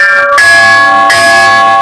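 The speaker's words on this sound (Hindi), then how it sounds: "बहुत सारी घंटियां लगी हुई हैं यहाँ पे" Many temple bells hang at the gate of the Durga Mata temple in Devsar village, Bhiwani, and they ring loud and close: bright metallic clangs struck twice in quick succession, each with a long shimmering ring.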